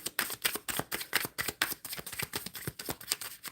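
A tarot deck is shuffled by hand in a quick, regular riffling rhythm of soft card slaps and flutters, close and fairly quiet, with no talking.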